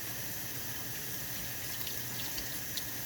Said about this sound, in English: go ahead and rinse your sink out real quick